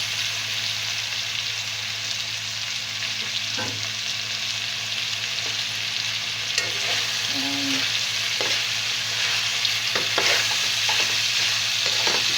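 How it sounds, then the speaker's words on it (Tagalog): Shrimp and browning meat sizzle steadily in a pan for a mung bean vegetable dish, a constant close frying hiss with occasional soft scrapes of stirring and no voices. "ihahalo ko na yung hipon at medyo brownish na yung karne"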